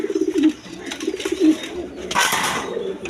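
A pair of Chuachandan pigeons coo close by in repeated low, throaty bursts with a rhythmic pulse, while a faint rustle and brief noise cut in near the end.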